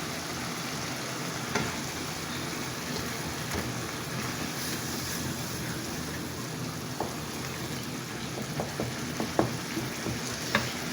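Chicken keema with green chillies frying in oil, a steady, even sizzle that lasts throughout, with occasional light scrapes and stirring clicks near the end and no voices.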